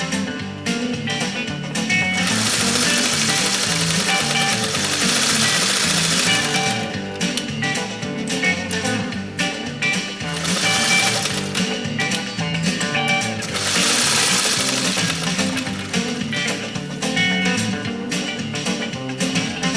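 A restored long-bed Singer 301A sewing machine stitching leather, running loud and steady with a fast mechanical chatter that surges and eases slightly over the span, close up with no talking.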